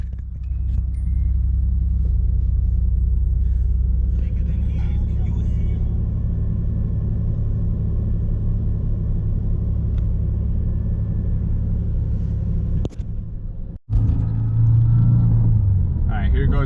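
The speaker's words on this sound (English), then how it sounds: "This is a cold start. This is actually the next day." A Nissan 300ZX Z31 turbo engine idles steadily after a cold start, a continuous low rumble throughout with a brief dip and clunk near the end.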